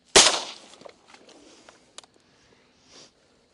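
A single loud shotgun blast rings out at a public duck hunt in Nebraska, followed by faint rustling and scattered small clicks and thumps, with no voices heard afterward.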